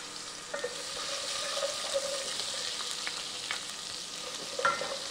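Cumin, mustard seeds, ginger garlic paste and chopped green chilies temper in hot oil, a steady close sizzle with occasional sharper crackles and stirring, no voices.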